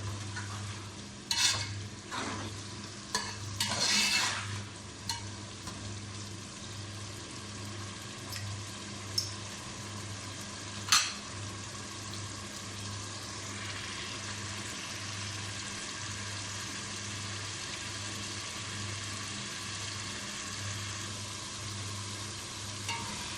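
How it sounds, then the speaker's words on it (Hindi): Goat meat frying and being stirred in a pan, a steady sizzle running throughout with clattering spoon scrapes and knocks near the start and a sharp clank around the middle, no talking. "तो इसको हमने अच्छी तरह भून लिया।"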